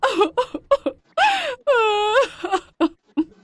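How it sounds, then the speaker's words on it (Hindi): A cartoon woman in a Hindi animated story bursts into loud wailing sobs, long rising and falling cries broken by short gasping whimpers and choked breaths, close and intense. "अचानक से वो जोर जोर से रोने लगती है।"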